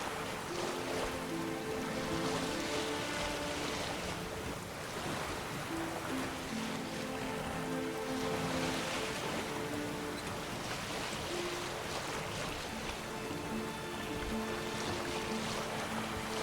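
Sailing boat gliding over open ocean waves in The Witcher 3, a continuous broad wash of water and wind with a faint low drone beneath, even and unbroken throughout.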